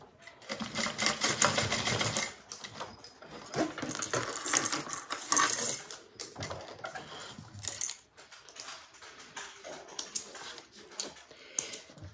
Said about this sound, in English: we're going to top stitch through the base